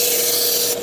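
A pocket knife blade being ground, giving a loud, steady abrasive hiss and rasp that runs continuously and shifts slightly in tone near the end.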